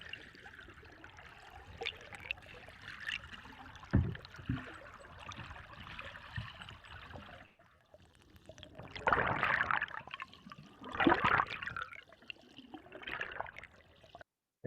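Flowing water captured by a field recorder at a water source in an outdoor listening session, a steady trickling wash with louder gushing surges toward the end and a few low knocks.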